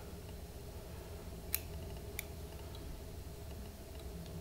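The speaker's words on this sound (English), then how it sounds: "Then you can just come with your scissors and cut out" Two quiet, crisp snips of scissors cutting a feather close up while tying a fly, spaced about half a second apart, over a faint background hum.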